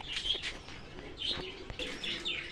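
Male pigeon at a pigeon loft giving soft chirps and short calls, several brief bursts spread across a couple of seconds, moderately close, with no talking.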